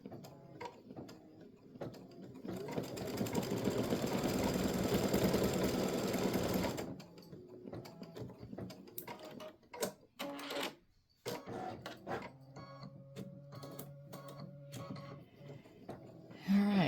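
An embroidery machine stitches freestanding-lace bat earrings with rapid mechanical clatter, loudest in a sustained burst early on, then lighter intermittent ticks and whirs, with faint voices in the background.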